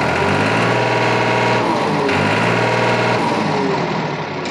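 A Sonalika tractor engine runs steadily at close range, a loud, continuous diesel drone with a firm low hum and mechanical rattle, holding an even pitch throughout.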